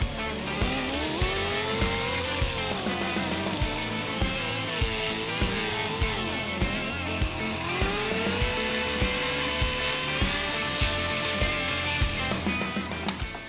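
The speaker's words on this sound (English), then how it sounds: "Notice that the burr is running at moderate speed." A carbide burr on a rotary tool grinds the oil drain-back passages of a 410ci stroker Windsor engine block at moderate speed, giving a steady, continuous whine with a faint rhythmic ticking that shifts slightly in pitch as it cuts.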